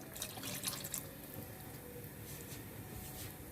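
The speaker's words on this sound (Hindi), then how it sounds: "अब हम इसके अंदर 1 कप पानी डाल रहे हैं" One cup of water is poured into a cooking pot of karela gosht, a short splashing pour near and fairly quiet, then settling into a soft trickle.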